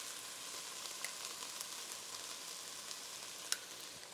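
Garlic and tomato paste sizzle in a frying pan, a steady, moderate crackling hiss with occasional sharper pops and light stirring, no speech.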